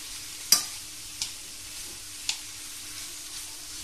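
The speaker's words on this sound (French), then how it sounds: "je vais venir ajouter la viande hachée. Je vais la mélanger avec les légumes." Minced meat being stirred into vegetables in a pan, with a few sharp scraping clicks of the spoon over a faint steady sizzle, no voices.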